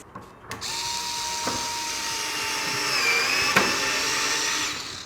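Xiaomi Mijia cordless screwdriver drilling a hole into wood, a continuous high motor whine with a steady tone that strains slightly midway, loud and close, running almost the full length before cutting off.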